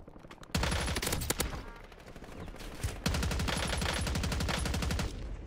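SMG fire in Call of Duty, a C9 with side-to-side recoil: two long bursts of rapid automatic shots, crisp and evenly spaced, with a short gap between them.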